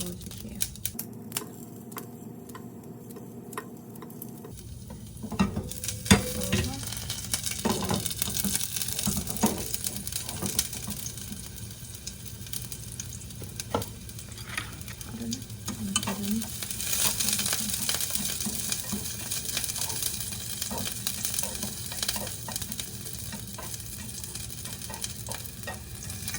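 The white parts of green onions stir-fry in a pan: a continuous crackling sizzle punctuated by utensil scrapes and clicks, beginning a few seconds in after a quieter opening.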